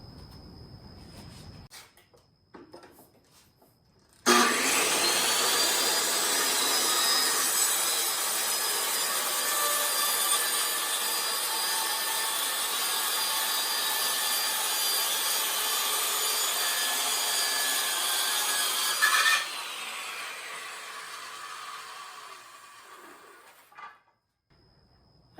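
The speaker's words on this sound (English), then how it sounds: "now we're going to cut our first interior piece of plywood" A loud power saw cuts a sheet of plywood for a curved wall panel, running steadily for about fifteen seconds with a bright, rasping whine before winding down, preceded and followed by quieter handling noises.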